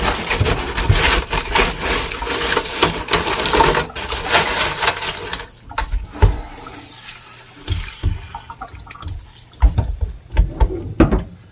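Tap water running steadily while tumbled rocks are rinsed, a loud, continuous splashing hiss that eases off midway and turns into intermittent trickles, knocks and handling noises with no talking.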